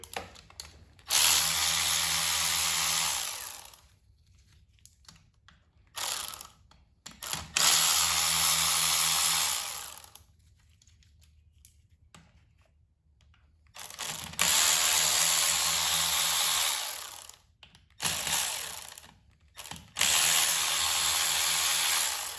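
A power driver backs out T30 Torx bolts from the rear main seal housing on a Volkswagen MK6 GTI engine, in four separate whirring bursts with short quiet gaps between them, close and loud, with no voices.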